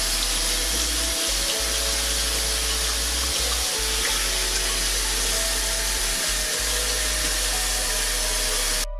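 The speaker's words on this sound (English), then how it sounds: "We're just going to rinse them out." Tap water runs steadily and loudly into a sink while halved jalapeno peppers are rinsed under the stream, a continuous broadband splash with a few low thumps.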